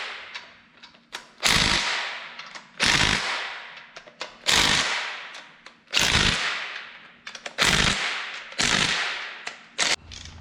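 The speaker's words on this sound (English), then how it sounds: "Now what we need to do is go ahead and torque these down." A torque wrench tightens bolts to 18 foot-pounds on an assembled 5.3 Suburban engine with a DOD delete, giving about seven sharp metallic clicks at a steady, roughly even pace, each ringing briefly in a quiet shop.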